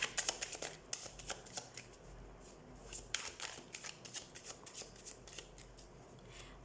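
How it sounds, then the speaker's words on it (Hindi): Tarot cards being shuffled by hand, soft repeated riffling and flicking in irregular bursts, close and fairly quiet, with no talk over it. "तो सबसे पहले हम कार्ड शफल कर लेते हैं।"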